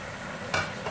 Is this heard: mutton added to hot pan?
yes